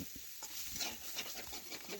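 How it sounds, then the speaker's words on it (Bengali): Cauliflower and potatoes being stirred and spread in a frying pan: close, continuous scraping and shuffling of a utensil over a faint, steady sizzle, with no talk. "দেখুন আবারও নাড়াচাড়া করে আর একবার আমি এভাবে ছড়িয়ে দিলাম।"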